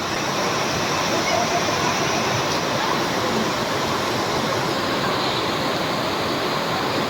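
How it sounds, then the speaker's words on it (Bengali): Heavy rain pours steadily at Namkhana station beside a stopped train, a dense, loud, continuous hiss with no break, while a voice speaks over it. "জাস্ট দেখো কত বৃষ্টি হচ্ছে।"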